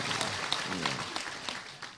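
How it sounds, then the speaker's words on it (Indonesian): Brief burst of audience applause for Gus Ipang at an Islamic sermon gathering, a short patter of clapping from a seated crowd lasting about two seconds. "tepuk tangan kagem Gus Ipang niki."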